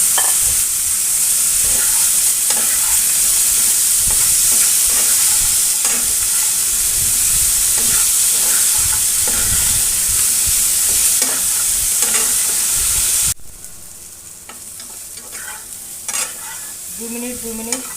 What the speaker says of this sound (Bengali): 2 মিনিট এটা ভাজার পরে কাঁচা কলাগুলো দিয়ে দিচ্ছি। এটাও একই সাথে আরও 2 মিনিট ভেজে নেব।